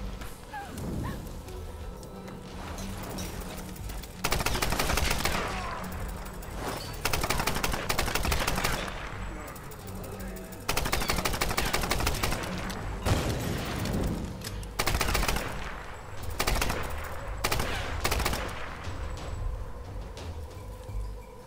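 Rifle fire in the Tomb Raider video game rattles out in loud, rapid bursts, long volleys broken by brief pauses, with some booming impacts mixed in and no talking.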